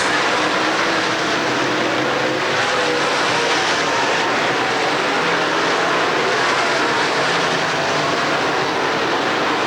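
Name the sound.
race cars racing at Penn National track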